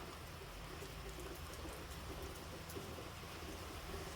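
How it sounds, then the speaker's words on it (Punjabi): Soft, steady patter of light rain falling outdoors, a continuous gentle hiss with faint drops and a low rumble underneath. "ਲੋ ਜੀ ਹਲਕੀ ਹਲਕੀ ਕਿਰਮਣ ਕਿਰਮਣ ਹੋਣੀ ਸ਼ੁਰੂ ਹੋ ਗਈ"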